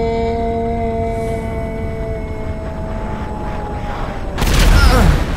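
Missile explosions from fighter planes in the GTA 5 video game: a loud, heavy boom bursts in near the end after a steady stretch of droning engine tones and low rumble.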